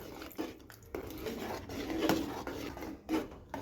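Jaggery rice with milk being stirred in a pot, soft scraping and rubbing of a spoon against the vessel with light clinks, close and quiet throughout.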